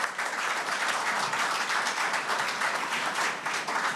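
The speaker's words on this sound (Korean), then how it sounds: "큰 박수 부탁드리겠습니다." A large crowd claps steadily at a political party convention, a dense, sustained wash of applause at an even level from start to finish, with no voices standing out.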